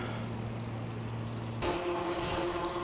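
Cars pass cyclists on a village road under repair with fresh asphalt, a steady engine and tyre roar close by, shifting in pitch midway as one vehicle gives way to the next.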